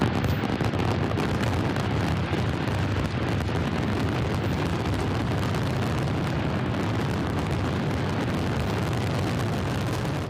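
Continuous loud, dense booming and crackling with no gaps, like a fireworks finale of rapid overlapping blasts.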